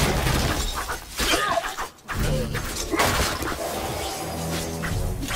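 Objects shatter and smash in the MediEvil video game, with a series of loud crashing breaks over a steady, busy game soundtrack.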